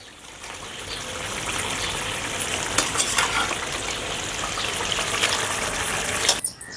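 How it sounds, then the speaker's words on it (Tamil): Loud continuous sizzling of fried eggs added to a bubbling egg masala curry, steady hissing and spattering close up throughout, with a brief clatter near the end. "இப்போ ஃப்ரை பண்ண முட்டையை சேர்த்துக்கிறேன்."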